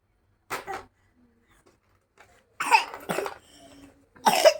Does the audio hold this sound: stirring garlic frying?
no